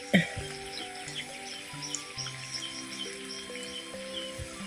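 Chicken skin fries in oil over a low flame, a soft steady sizzle under faint background talk, with a brief louder crackle at the start.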